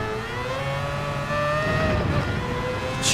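A race car engine in the video game Gran Turismo 7 howls at high revs in fifth gear near 200 miles an hour, a steady rising whine with a brief shift, loud and continuous.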